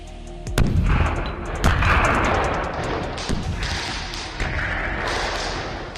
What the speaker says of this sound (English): The audio of the supposed chlorine tank explosion seemed to be lifted straight from YouTube.